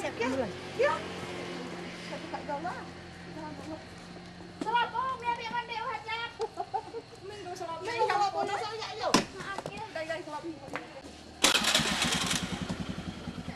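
A village motorcycle ambulance in Simeulue starts its engine near the end, a sudden loud, rough mid-pitched rumble after a stretch of voices and background activity.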